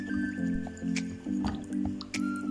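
Salted water is being mixed in a bowl for a crispy chicken honey batter, making close, rhythmic wet squishing and sloshing strokes in several quick repeating pulses.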